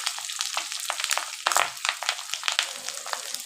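Fish roe fritters crackle and sputter in hot oil, a dense, close, continuous frying hiss with sharper popping bursts scattered throughout.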